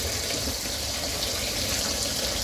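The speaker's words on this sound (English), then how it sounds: "So I'm going to open the hot tap." Hot water gushes steadily from an open kitchen tap, a dense, constant rushing that stays loud and unbroken throughout.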